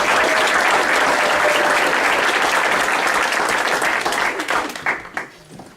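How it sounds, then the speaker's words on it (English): A big round of applause for three high school football players at a touchdown club banquet, full and continuous, then thinning into scattered claps and dying away near the end. "Let's give all 3 of those players a big round of applause."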